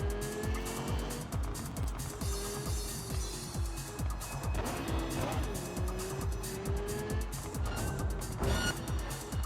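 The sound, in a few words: car driving with tire squeal in video game Cyberpunk 2077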